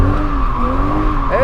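A Dodge drifting in tight donuts in second gear, throttle alone holding the slide, its engine droning steadily while the tires keep up a loud, sustained skid with a rising squeal near the end.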